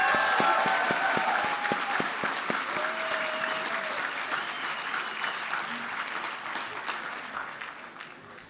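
Outdoor commencement crowd applauds a brass band with sustained clapping, a few sharp individual claps standing out early and a faint whistle or cheer, slowly fading.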